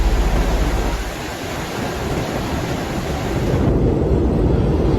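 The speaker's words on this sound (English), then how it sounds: "Severe winter storms exceeding 100 kilometers per hour have hit Colorado and Minnesota since the evening of Friday, February 11th." A severe blizzard with winter storm winds over 100 km/h in Colorado and Minnesota roars as a steady, loud rushing of wind that buffets the microphone, continuous with no voices.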